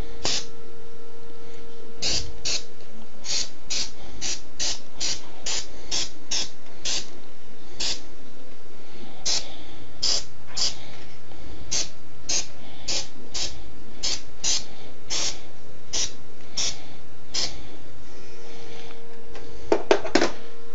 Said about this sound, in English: Now, spray.